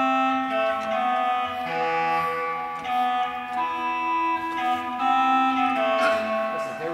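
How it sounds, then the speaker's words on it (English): A Baroque-style crumhorn reed stop on a pipe organ plays a sustained, buzzy, throaty melodic line of held notes, close and clear with no talking. "It's actually more of a Baroque type of a reed called a cromhorn, but it sounds different."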